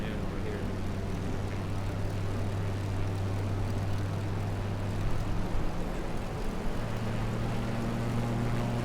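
A light airplane engine drones steadily in Microsoft Flight Simulator over the Provence region of France, a constant propeller hum with a shift in pitch partway through.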